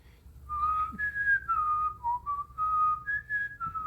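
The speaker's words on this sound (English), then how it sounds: "don't whistle if you suck at it" A person whistles a short, wavering, slightly off-key melody of several sustained notes with brief gaps, close and fairly clear over a faint background hum.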